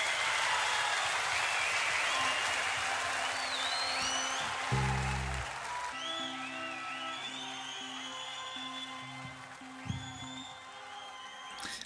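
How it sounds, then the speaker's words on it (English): Concert crowd applause from a 1970s rock recording, a broad wash of clapping and cheering that gradually fades down, with music tones and whistles scattered over it. "they literally had to fade out the applause"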